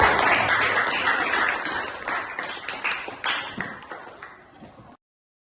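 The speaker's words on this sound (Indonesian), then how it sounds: "tepuk tangan untuk kita" A classroom of students gives a round of applause during a lesson, brisk overlapping clapping that gradually loosens into uneven individual claps before cutting off abruptly.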